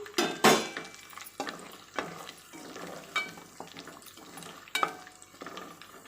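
Whole biryani spices frying in oil for prawn biryani, a low crackling sizzle broken by several sharp clinks and scrapes of a metal spoon against the pot, close by, with no voices.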